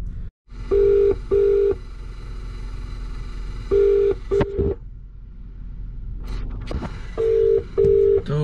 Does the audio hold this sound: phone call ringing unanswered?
yes